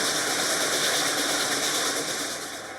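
Reading & Northern 2102 steam locomotive working hard up a grade, heard from the cab as a dense, rapid, steady exhaust roar that fades slightly toward the end, with no talking.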